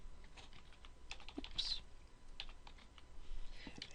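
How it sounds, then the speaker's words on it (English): Someone types on a computer keyboard at a steady, quick pace, with soft close key clicks and a few louder taps spread over several seconds. "I'm going to go ahead and type, this is a paragraph."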